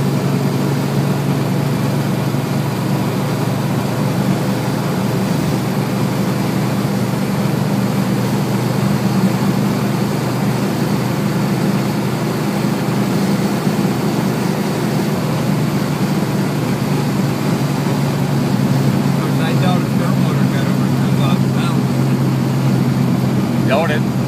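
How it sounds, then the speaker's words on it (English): A 1970 Plymouth Superbird with a fresh motor, bigger cam and bigger carburetor runs at a steady, loud, low rumble throughout, with a voice talking over it. "It ran better with the other carburetor."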